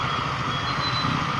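Reversing beeps from a large truck close behind, a steady high-pitched beeping over a continuous engine rumble, loud and without voices.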